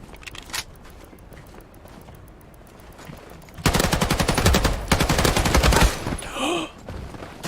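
Automatic gunfire in the World War II shooter Battalion 1944, starting as faint distant shots and building into a loud, close burst of rapid fire from about halfway through, with short pauses and a last spray near the end.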